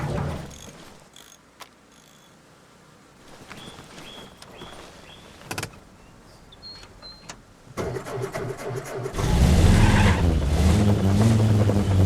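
A vehicle in Arma Reforger, a truck with a leaking fuel tank, starting up after quiet clicks and mechanical sounds, then a loud engine revving and driving near the end, alone without talk.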